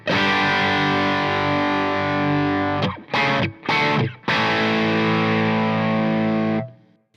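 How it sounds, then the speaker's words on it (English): An electric guitar driven through a Truetone Route 66 American Overdrive pedal rings out in sustained, gritty chords, with a few choppy strummed stabs in the middle before a held chord decays. "So here's the overdrive."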